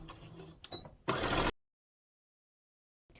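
A sewing machine stitches a quilted tote bag in one short, loud mechanical whirr after a few quieter handling sounds, then cuts off to silence.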